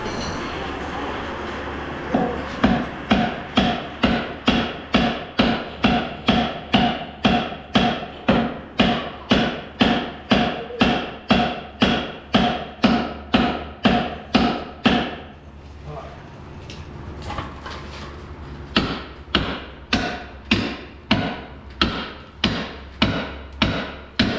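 A hammer pounds on a car's suspension knuckle to pop it free: loud metallic blows land close up in a steady run of about forty strikes, pause briefly, then resume.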